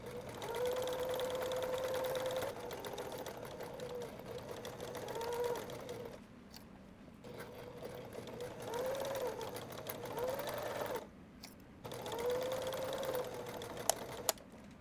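Sewing machine stitching webbing onto tote bag panels, several runs of steady close mechanical whirring separated by short pauses, with a couple of small clicks near the end.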